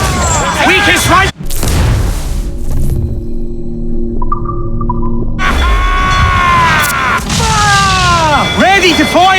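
Ship cannons fire in the naval battle of Assassin's Creed IV Black Flag. Loud booming blasts and crashes sit among shouting crew voices and surging music, with a sharp burst early and heavy rumbling throughout.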